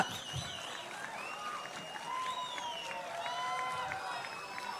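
An audience at a Vijayawada event for International Disabled People's Day applauds to welcome Chief Minister Chandrababu Naidu, giving a sustained wash of clapping through most of the clip. An amplified voice talks over it.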